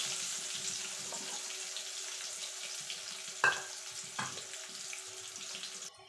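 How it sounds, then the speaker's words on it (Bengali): Potatoes seasoned with salt and turmeric frying in hot oil, a steady soft sizzle running throughout with a couple of brief louder clatters of stirring partway through. "আলুটাকে লাল লাল করে ভেজে তুলে নেব।"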